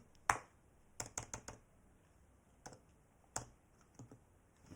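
Someone types on a computer keyboard at a desk: scattered light key clicks, a single tap, then a quick cluster of four, followed by a few more spaced taps, close and quiet with no talking.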